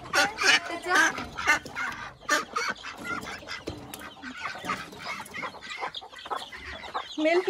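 Chickens cluck and a rooster calls near ducks in the farmyard of an agrotourism resort by a dam in Sawantwadi, with repeated bursts of clucking that rise and fall while people talk nearby.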